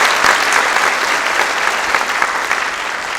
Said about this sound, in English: If we can give her a quick round of applause, we appreciate it.